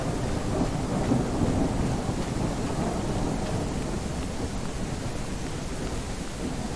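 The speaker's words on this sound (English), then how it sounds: "Look at the quality of the rain effects and the puddle." Rain and thunder effects from the survival game Zee End, a steady, dense downpour hiss with low rumbling thunder, heard close and without talk.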